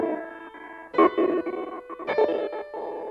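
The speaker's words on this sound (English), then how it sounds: "first we have this beat repeat preset called Robo Voice." Piano notes processed through Ableton Live's Robo Voice beat repeat preset, producing choppy, buzzy, stuttering repeated tones in uneven bursts, heard alone without speech.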